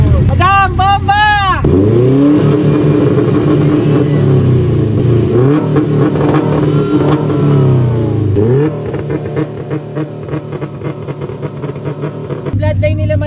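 Honda Civic EG with replaced engine internals revving hard, loud rising and falling engine blips over a sustained rasp, with people talking nearby through parts of it.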